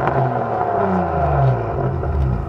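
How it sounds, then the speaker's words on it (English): A turbocharged Saab car engine revs close by, its pitch climbing and falling through a continuous loud whir with a slight clatter, and no talking. "Sounds like a damn 350Z, but it's turboed."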